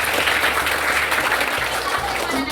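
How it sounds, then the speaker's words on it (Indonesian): A classroom group of children claps their hands together in a dense, steady burst of applause that stays loud and close throughout. "Oke, tepuk tangan."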